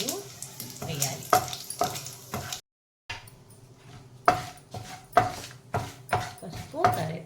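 Dried red chillies, chana dal, urad dal, cumin and mustard seeds tempering in hot oil for a spinach-carrot chutney, with crackling sizzle, spoon knocks and stirring in bursts, a dog barking and a voice murmuring at times.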